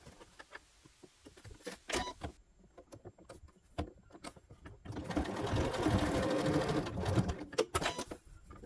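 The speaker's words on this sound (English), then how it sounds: "I like to sew off the seam allowances like this" A sewing machine stitches off the seam allowances on a fabric cube, a steady mechanical whirr running several seconds after a few quieter starts and stops and handling clicks.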